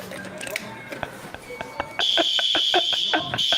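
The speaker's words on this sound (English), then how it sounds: "he's away? gonna pull the fucking fire alarm." A building's fire alarm, pulled by hand, kicks in partway through as a loud, steady high-pitched tone with a pulsing edge, rising over earlier background voices and clatter.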